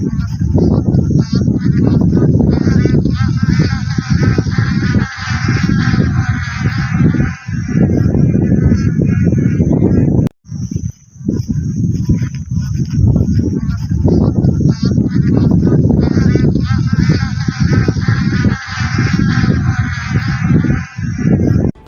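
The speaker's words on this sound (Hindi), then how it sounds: "इस बार गर्मी की दस्तक पहले होने से प्रवासी पक्षी अब अपने वतन जाने शुरू हो गए हैं" A flock of migratory geese honks loudly and continuously, many overlapping calls forming a dense, close chorus with only brief dips.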